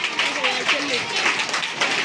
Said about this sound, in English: Please clap them.